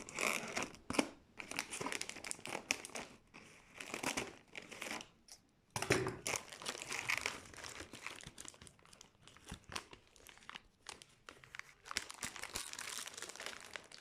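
A beef-flavoured crisp snack bag is snipped open and handled, giving loud, continuous crinkling and rustling plastic with sharper tearing crunches, close to the mic and without talk.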